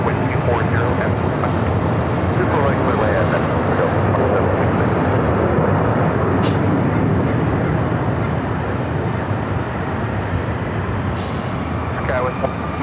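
A Delta airliner landing on runway 24R at Los Angeles International Airport, heard as a continuous broad jet roar with a distant rumble that holds steady throughout, with faint voices in the background.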